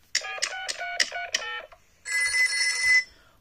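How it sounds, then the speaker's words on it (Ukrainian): A telephone bell rings in a children's cartoon, sounding as a quick series of five bright trilling bursts followed by a longer sustained ring, loud and clear with no talk over it. "Phone rings."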